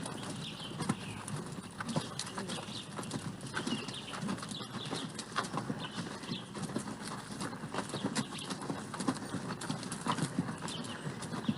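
Several ridden horses clip-clop along at Dunrovin Ranch, quick hoofbeats overlapping in a steady trotting rhythm, moderately distant and continuous with faint background noise.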